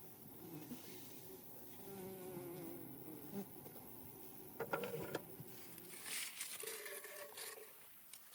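Bees buzzing around tree-hollow hives in the Carpathian countryside of Ukraine, a steady insect drone with occasional louder close passes and a brighter, busier buzz near the end.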